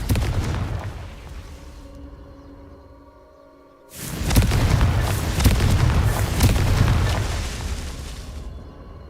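A fiery Confringo spell explosion in Hogwarts Legacy on PC, a rumbling blast fading out, then after a short lull a second loud, sustained boom with crackling debris, close and forceful, no voices.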